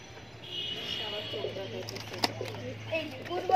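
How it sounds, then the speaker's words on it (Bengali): Local desi pigeons coo softly in a loft, low murmuring calls with a faint steady hum behind them and a few sharp knocks and rustles nearby. "এগুলো দেশি কবুতর"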